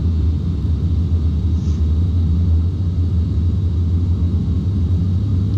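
Jet engines of a C-17 in a flight simulator game roll for takeoff, heard from inside the cockpit as a steady, loud, low rumble with a thin whine above it, continuous and with no talking.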